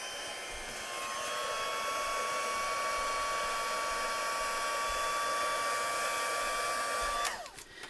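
A heat tool melts stamped ink onto cardstock for a craft project, blowing a steady, airy whir for about seven seconds before clicking off, with no voices.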